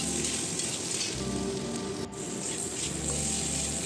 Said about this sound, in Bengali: সেই আলুগুলিকে তেলের মধ্যে ছেড়ে দেব।